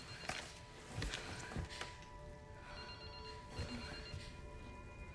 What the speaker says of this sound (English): This is the phone again.